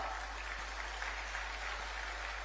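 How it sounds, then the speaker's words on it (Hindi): Steady applause from a crowd at a Jharkhand state government event, a dense even patter of clapping that holds at the same level throughout with no voices on top. "तालियां आपकी ओर से जरूर हो।"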